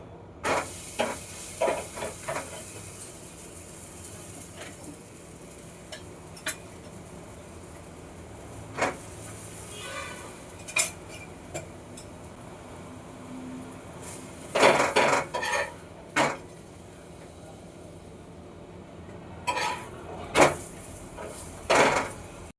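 Radish paratha cooking in a little oil on a hot griddle, with a low steady sizzle broken by repeated clinks and scrapes of a utensil against the pan.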